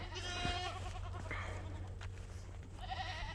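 Several goat bleats ring out from a morning pasture over a constant low hum, one early, one mid-clip and one at the end, fairly close and clear.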